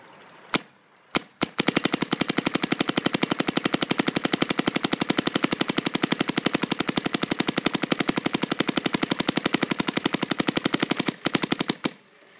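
An Empire Axe limited edition paintball marker firing: a few single shots, then a long, fast, evenly spaced burst of sharp cracks that stops abruptly, loud and close.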